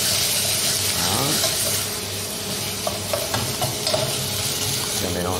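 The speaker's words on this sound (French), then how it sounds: "Mélangez bien les pommes dans le beurre." Apples tossed into hot butter in a pan and stirred, giving a steady close sizzle with scraping and clinking of the utensil against the pan throughout.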